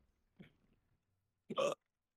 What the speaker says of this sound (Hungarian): most megint csuklok